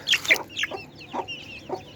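Newly hatched chicks and chickens cluck in short, separate bursts, close by and moderately loud, with no talking.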